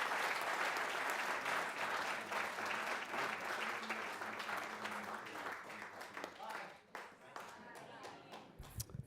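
A large crowd at a Texas faith and family day event claps and cheers steadily as a departing guest leaves the stage, the applause sustained and broad before tapering near the end with a few final claps.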